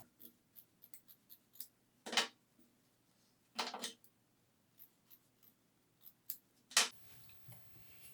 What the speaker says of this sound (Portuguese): Vou aparar um pouco dessa sobra,